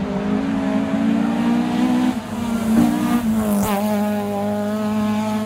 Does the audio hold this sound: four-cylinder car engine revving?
yes